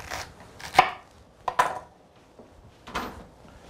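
Knife chopping through a fennel bulb on a cutting board, four distinct sharp thunks spaced irregularly across a few seconds, close and clear with quiet gaps between.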